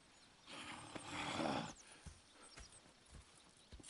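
Horses in the Red Dead Redemption 2 video game, with hooves clip-clopping at a walk and a whinny, then a few scattered nearby hoof thuds.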